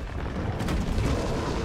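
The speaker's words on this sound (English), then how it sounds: "That's an explosion round, do it again!" Explosion round fired in Resident Evil 3 during the final boss fight, a dense low rumbling blast that rolls on for over a second, loud and close with no voices.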